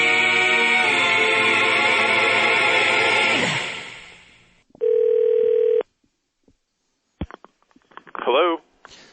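A telephone call is set up: a loud sustained dial tone fades out, a long steady tone follows, then short dialing beeps and blips sound close and clear.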